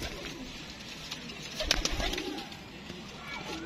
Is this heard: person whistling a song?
no